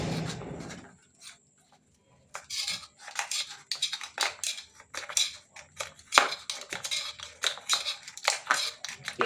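A utensil scraping and clinking against a baking pan while loosening the sides of a baked chhena poda: a string of close, irregular scratchy scrapes and small metallic taps, no talking.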